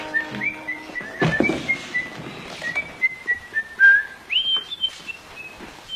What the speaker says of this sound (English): Whistling, you mean?